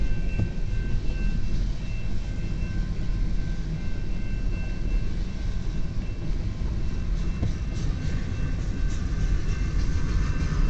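Long CN eastbound mixed freight train led by locomotives 2641 and 2614 passing in Port Huron, Michigan: a steady, loud rumble of rolling cars and wheels on rail that continues without a break.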